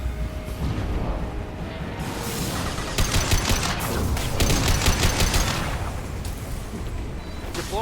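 Heavy gunfire in the video game Mass Effect 2: loud, continuous bursts of rapid shots and blasts, with denser volleys in the middle, and no voices.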